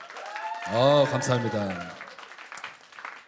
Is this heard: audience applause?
yes